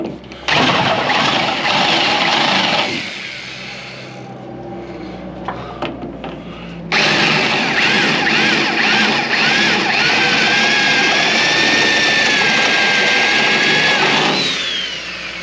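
A power drill bores through scrap metal, whining loudly in two long bursts separated by a quieter pause with clanks and handling noises, the pitch shifting as the bit works through the steel.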